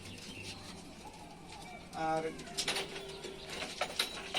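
Rajshahi Giribaz pigeons give low, throaty coos close by, several overlapping calls, while someone talks briefly.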